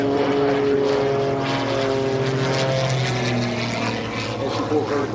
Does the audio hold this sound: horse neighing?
no